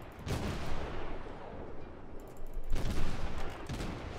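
Naval gunfire in World of Warships, with heavy booming salvos and rumbling blasts: one burst early, a long rolling roar, then another strong volley near the end, loud and close.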